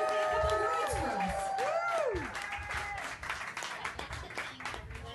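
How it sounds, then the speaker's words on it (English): An audience at a book launch breaks into applause for the author, a dense burst of clapping that fades over a few seconds beneath nearby chatter and a tonal sweep. "Everybody give a round of applause for our author, Karen"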